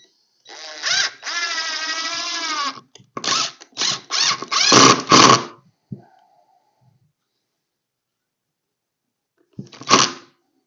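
A screw is driven into a wooden kids' airplane rocker with a power drill, giving a sustained whirring burst followed by several short stuttering pulses, then a pause and one final brief burst.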